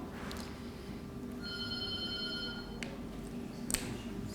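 A landline telephone rings in a room, a faint, steady electronic trill lasting over a second beneath background noise, with a brief click and thump following.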